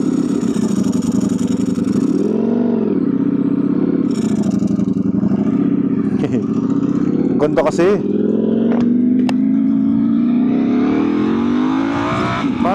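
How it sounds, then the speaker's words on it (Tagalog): A Ducati Multistrada V4 RS motorcycle with an Akrapovic exhaust and dry clutch runs and revs steadily, with a few sharp rises in engine pitch, while someone talks close to the microphone over the engine. "Ikot ko muna tong Ducati."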